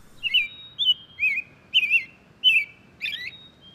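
Wild birds near Niagara Falls give six short, bright chirping phrases at an even pace, clear and fairly close against a quiet background.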